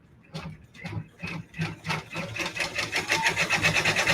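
A multi-needle embroidery machine starts stitching, its needle thumps building from spaced pulses into a fast, steady mechanical rhythm with a whirring hum, heard up close and alone.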